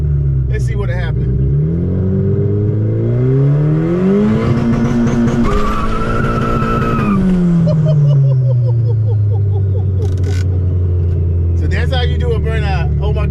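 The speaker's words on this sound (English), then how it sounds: "I just did my first burnout in a manual stick car" A 1991 Honda Civic EF sedan with a manual transmission revs hard and rises in pitch as the tires squeal through a burnout, then the revs fall back; loud and close.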